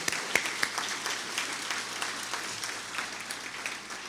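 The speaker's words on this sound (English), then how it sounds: "Can we just give Peggy one more round of applause?" Crowd applause at an Older Americans Month breakfast, a steady wash of many hands clapping at an even level, with a couple of sharper individual claps near the start and no talk over it.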